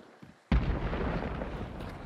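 A barrel explodes in Hunt: Showdown, a sudden heavy boom after a brief quiet lead-in, followed by a long, rumbling roar of debris and fire that slowly tapers without fading out.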